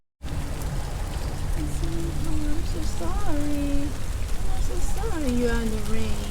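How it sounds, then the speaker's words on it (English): Rain falls on a street in a residential neighborhood of Querétaro, Mexico, a steady loud hiss throughout, with someone talking briefly over it. "Alright guys, so it is starting to rain on us."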